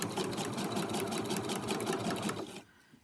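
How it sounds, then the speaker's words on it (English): A sewing machine stitches fabric quilt blocks in a fast, steady run of needle strokes for a few seconds, close and clear, then stops abruptly. "I'm going to sew clear down and off."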